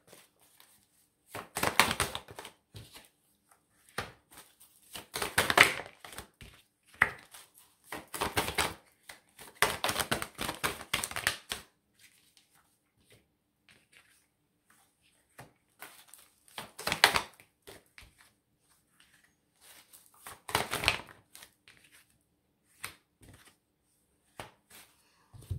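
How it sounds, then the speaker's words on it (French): Oracle cards being handled and laid down over other cards, giving bursts of crisp papery shuffling and tapping with pauses between, fairly close and quiet, with no talking. "on va recouvrir ces cartes avec l'oracle des prières."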